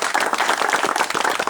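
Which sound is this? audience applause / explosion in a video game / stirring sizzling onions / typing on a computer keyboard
audience applause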